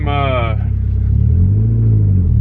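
Racing exhaust heard from inside a car cabin, a deep, steady low rumble with a brief rev-like tonal rise at the start, droning loudly throughout.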